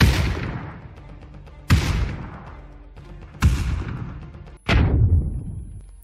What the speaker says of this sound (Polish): co tu się odwala z tymi wybuchami?